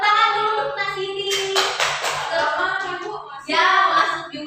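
Elementary schoolchildren clap together in a social studies class, with a short burst of claps in the middle. Their chanting, sing-song voices dominate before and after it.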